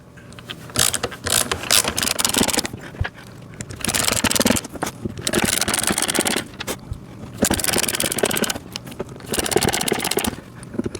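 Small screws being driven in to fasten the training wheel on a VEVOR 6V battery-powered kids' ride-on electric motorcycle, a close ratcheting, scraping mechanical clatter in repeated bursts with short pauses between them.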